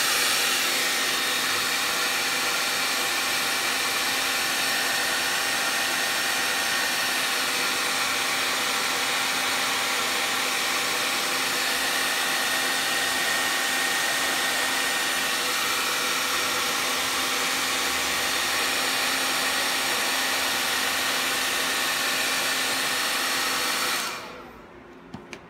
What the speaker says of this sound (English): get out my trusty dusty Vidal Sassoon super hot blow dryer.